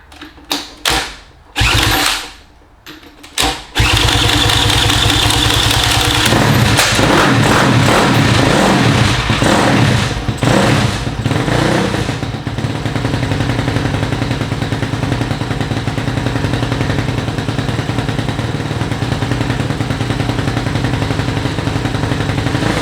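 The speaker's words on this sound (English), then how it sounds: "try to start it with the drill instead of the kick" A big-cylinder Daytona 190 engine in a 1972 Honda CT70 resto-mod is spun with a drill, sputters with a few loud bangs, then catches and settles into a loud, steady, close idle that continues to the end.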